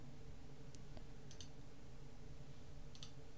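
Computer mouse clicks made while working in 3D scan alignment software, a few faint, crisp clicks spread irregularly over quiet background hiss, with no talking.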